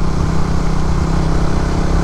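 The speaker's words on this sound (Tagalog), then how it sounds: "Kaya pagdating sa uphill, parang galit talaga yung makina niya." A 2022 Suzuki Raider 150 FI motorcycle engine strains uphill with a loud, steady low drone and constant hum, running alone without any talk.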